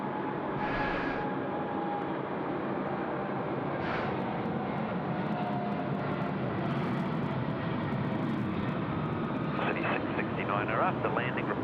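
A FedEx jet landing at Sydney Airport produces a continuous broad engine roar that stays fairly even throughout, with faint radio voices over it.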